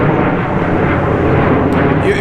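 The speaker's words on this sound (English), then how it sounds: "You can't really live in Tempe if you don't like plane and noise all the time." An airplane passes overhead in Tempe, Arizona, with a loud, broad, continuous roar, and a voice speaks under the engine noise.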